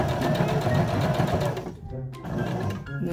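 A sewing machine stitches a fabric face mask with a nose wire in a steady, close, busy mechanical whir. The needle briefly slows and pauses partway through, then picks up again.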